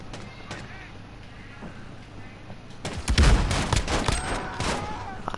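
Desert Eagle pistol fire in Call of Duty: Modern Warfare 2, a 2v2 match: a dense burst of loud gunshots in the second half, with faint game noise before it.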